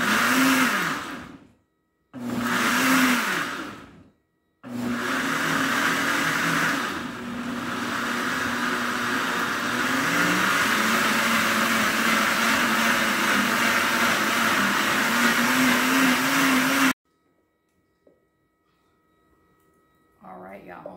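A blender purees marinade for pork tacos al pastor, with two short bursts followed by a long, steady whirring run that cuts off into near silence.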